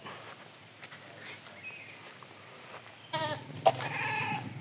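Goats bleat in the distance over faint outdoor background noise, with a couple of louder, nearer bleats toward the end.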